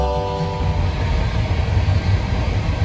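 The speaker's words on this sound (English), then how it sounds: "There's the CSX train." A CSX freight train rumbles past close by, a heavy low roar with rattling wheels, loud and steady throughout.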